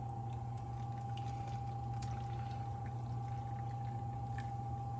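Ground kurma paste, blended with water, is poured into a rice cooker, giving a steady soft wet pour over a constant low electrical hum, with no talking.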